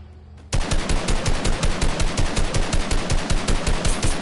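Rapid automatic gunfire in a video game starts abruptly after a short quiet moment, then continues as a loud, dense and steady burst of rattling shots until the end.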